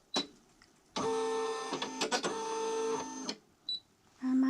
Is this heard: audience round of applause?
no